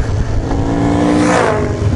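A dirt bike engine revving, a loud, close buzzing roar that rises in pitch and then falls away.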